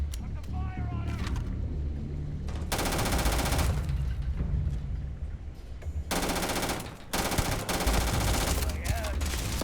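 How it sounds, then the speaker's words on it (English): Gunfire from the video game Starfield rips out in long automatic bursts, loud and dense, broken by short lulls, with a voice calling out amid the shooting. "Heavy fire over here! Put the fire on him!"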